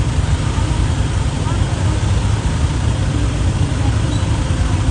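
Street traffic on a Manila road, with a steady, broadband rumble of passing motorcycles and engines filling the whole stretch and a voice speaking faintly.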